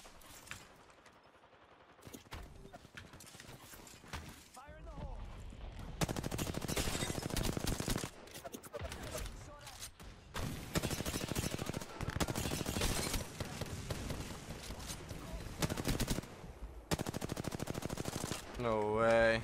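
A video game plays loud bursts of automatic gunfire, rapid fusillades coming in several clusters with brief lulls between them, with a voice talking over parts of the action.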